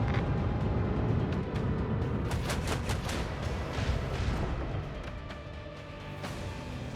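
Warship batteries fire a cannon volley in the video game Warhammer 40,000: Rogue Trader, a dense, continuous roar of booming blasts with scattered sharper cracks, loud and sustained throughout.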